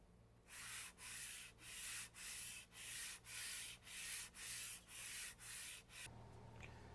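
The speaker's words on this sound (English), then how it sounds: "then I'll go over to the 220 grit wet dry sandpaper with some WD-40 just to finish it off" A Stanley No 5 hand plane, Type 11, is pushed back and forth over 220 grit wet-dry sandpaper with WD-40 to lap its sole. Eleven steady, even rasping strokes follow in a regular rhythm, close and alone, before they stop.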